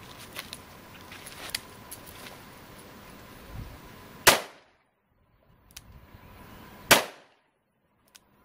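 Taurus Judge revolver firing Remington Express Long Range number 4 shot shells outdoors: two loud, sharp single shots several seconds apart, each with a short trailing echo, after quieter handling noise and low background.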